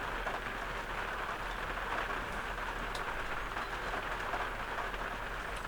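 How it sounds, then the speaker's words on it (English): Rain falls steadily outside on an off-grid homestead in Portugal, a constant even wash of hiss with a few scattered drip ticks, moderately loud and unchanging throughout, with no voices. "I'm not sure if you can hear the rain."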